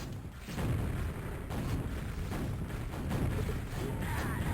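Rocket explosions in a QuakeWorld 2on2 deathmatch: a dense, continuous wash of booms and blasts with no clear gaps, loud and close throughout.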